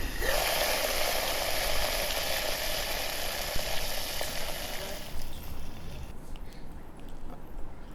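Freshly washed guar beans tossed into hot garlic oil in a pressure cooker on a traditional clay stove: a dense, hissing sizzle close by that fades after about five seconds, leaving a low background rumble.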